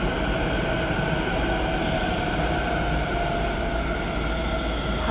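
Navi Mumbai Metro train running at speed, a loud, steady rumble and hum with a brief high wheel squeal near the start, heard from inside the carriage with no talking.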